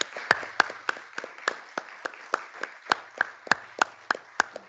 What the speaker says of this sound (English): I really do think they deserve an applaud and our thanks so much.